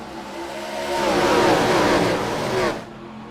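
Several race cars accelerate hard away from a standing start at a stock car race at World Wide Technology Raceway, their engines swelling into a loud, sustained roar that builds over a couple of seconds and then cuts off abruptly.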